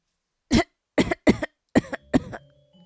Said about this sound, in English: a large amount of smoke fills my lungs and forces me to cough